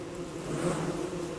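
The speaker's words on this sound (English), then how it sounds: "there's like so many angry bees here" A swarm of angry bees in Don't Starve Together drones in a steady, close buzz that swells slightly midway, continuous and alone with no talk.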